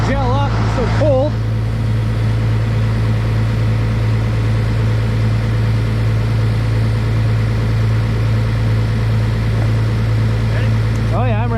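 A snow groomer's diesel engine idles steadily after a cold start in freezing weather, a loud, even, close rumble running the whole time, with brief voices near the beginning and end.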